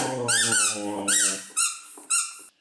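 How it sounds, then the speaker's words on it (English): A pet's squeaky chicken toy squeaked in several short, bright, wavering squeals with gaps between them, close and fairly loud. "He's decided to bring the squeaky toy to me."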